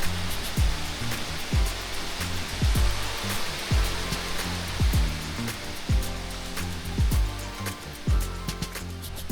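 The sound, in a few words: waterfall in Pisgah National Forest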